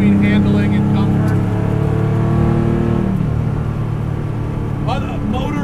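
A raced-in-period, rat-rodded 1970 Porsche 911 drives along with a loud, steady engine drone and rumble from inside the cabin, and the pitch shifts partway through as people talk over it.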